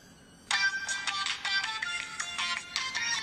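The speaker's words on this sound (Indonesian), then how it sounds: "mama kamu telepon Angel" A mobile phone ringtone for an incoming call starts abruptly and plays a bright repeating electronic melody, loud and close, with no talk over it.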